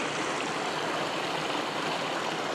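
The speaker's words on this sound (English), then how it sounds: "Here's the creek, Alder Creek." Alder Creek, a tiny creek in Virginia City, Montana, rushing steadily with a dense, even hiss of flowing water, close and unbroken, no voices.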